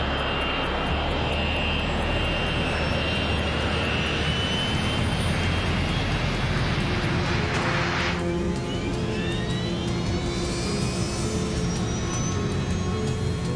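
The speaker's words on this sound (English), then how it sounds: "The 727 is seconds away from leaving the ground." A Boeing 727 jet accelerating down the runway for takeoff, a loud, steady broadband engine roar with a rising whine that climbs in pitch as the throttle comes up, heard continuously and without talk.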